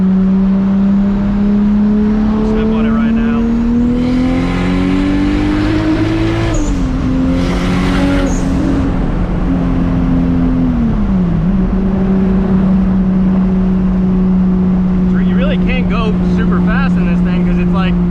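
An 800+ horsepower Toyota Supra MK4 accelerating hard while cruising, its engine note rising steadily through the revs, dropping at a gear change, then holding a loud droning pitch with wind noise and occasional talk inside the car.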